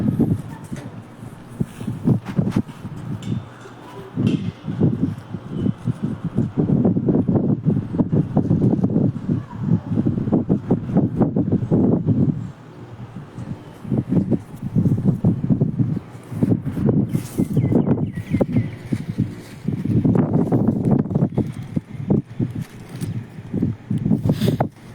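Strong seaside wind buffets the microphone in rough, rumbling gusts that rise and fall continuously, near and loud, with brief lulls between gusts.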